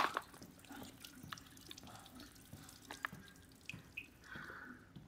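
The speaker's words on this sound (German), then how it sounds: "Kann das Wasser bitte aufhören zu laufen?" Tap water running in the video game Resident Evil Village, a faint steady trickle with small drips and splashes, heard alone without talk.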